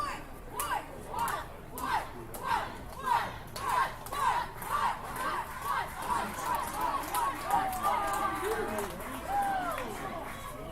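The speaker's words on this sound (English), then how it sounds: "Might be able to catch some noise from the crowd on hand here tonight at Welland Stadium." A small crowd of about a hundred at Welland Stadium, at a night playoff baseball game, makes rhythmic chanting and clapping that pulses steadily. It sounds moderately distant, with scattered shouts and whistles.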